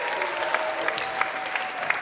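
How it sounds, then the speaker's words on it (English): An audience at a youth camp drama performance claps steadily for a short burst, the applause fairly close with a few sharper claps standing out. "Let's give them a round of applause, everybody."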